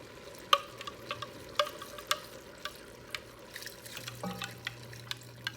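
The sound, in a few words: stirring homemade chili seasoning mixture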